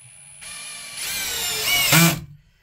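A power drill whirs up, pitch rising as it drives a drywall screw, then bogs briefly and cuts off; steady mechanical whine with no voices.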